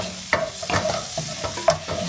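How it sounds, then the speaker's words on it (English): Olive oil heats in a pan while something is stirred and shifted, giving a soft bed of sizzle broken by repeated scraping and clinking strokes nearby. "I'm going to heat the pan up with a bit of this olive oil"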